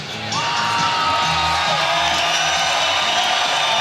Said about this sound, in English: Crowd going absolutely crazy here for Peñáz as he gets up on the cage.